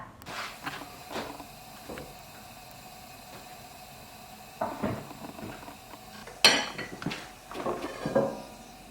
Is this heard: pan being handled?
yes